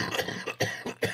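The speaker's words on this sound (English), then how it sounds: "I'm still dealing with this damn cough" A man coughing in a string of short, rough bursts close to the microphone, each separated by brief pauses, with no speech.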